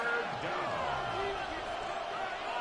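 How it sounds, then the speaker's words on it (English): Loud, steady stadium crowd roar in a Madden football video game, late in the fourth quarter, with commentary voices running over the continuous wash of noise. "The noise very loud from the crowd."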